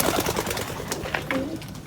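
Pigeons cooing in a loft, soft low coos repeating under some nearby bustle and background noise.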